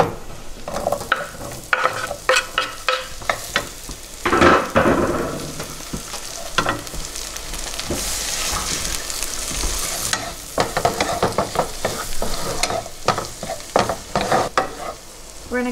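Garlic cooking in butter for clam linguine, stirred in a hot pan: loud close sizzling with frequent clattering spoon strikes and scrapes, a brief burst of louder frying midway, no voices.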